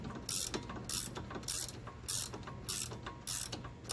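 A hand ratchet clicks in quick rhythmic bursts while tightening a bolt on a Jeep Compass, each stroke giving a crisp close series of pawl clicks with short gaps between.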